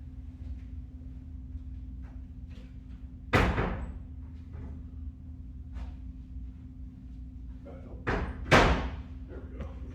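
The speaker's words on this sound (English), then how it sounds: "Let me close these doors too, because they like sneaking around me." Doors are shut indoors, with three sharp loud slams, one alone and then two close together, over a steady hum and faint background sounds.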